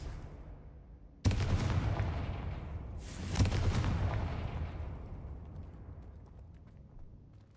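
Two Confringo spell explosions in a wizard video game on PC: a sudden deep boom, then a second blast a couple of seconds later. Each leaves a long, rumbling tail that slowly fades into quiet.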